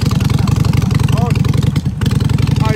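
A Harley motorcycle idles loudly nearby, its V-twin engine giving a rapid, lumpy pulsing rhythm, with a brief dip near the end before the idle resumes; voices talk over it.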